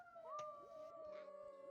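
A person imitates a howl with the voice, drawing out one long wavering tone that rises and then slowly sinks. It sounds faint and distant, with a few soft background noises.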